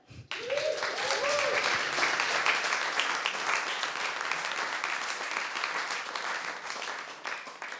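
A studio audience at a live music show gives a steady round of applause that swells quickly and holds, with a brief whoop early on, then thins toward the end.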